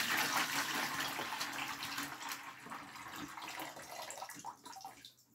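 Water from a clothes dryer's condensate container poured into a bucket, a steady close splashing gush that gradually thins and trails off near the end.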